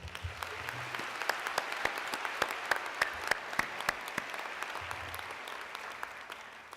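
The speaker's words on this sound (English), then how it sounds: "please give these tremendous students a great hand of applause again" Audience applause for students at a spring convocation ceremony, a soft, steady patter of clapping with sharp individual claps standing out, fairly quiet and distant overall.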